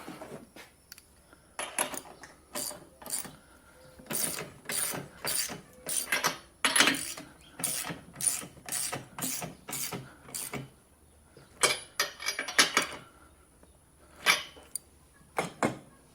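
A ratchet snugs down bolts while a Rhinohide canopy is installed on a tractor, giving quick runs of sharp clicks in irregular bursts with short gaps, close and moderately loud against a quiet background.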